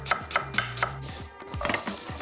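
A knife chops an onion finely on a cutting board in a kitchen, a quick run of four crisp, evenly spaced blade strikes followed by softer, looser knocks, close and clear with no talking.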